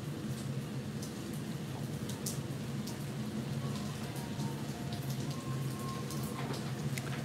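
Rain falling outside an open door, a steady, dense patter of drops on surfaces that holds evenly throughout, soft and continuous with no voices.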